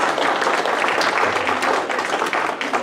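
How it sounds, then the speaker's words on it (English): Dense, sustained applause from a meeting audience thanking its panelists, loud and close, many hands clapping together in a steady wash without letup. "I want us to give our panelists one last applause and thank them again for doing this for"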